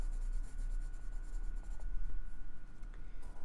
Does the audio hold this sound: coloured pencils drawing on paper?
yes